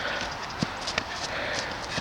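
Steady clip-clop of horse hooves walking on ground, with a few sharper hoof strikes over outdoor background noise.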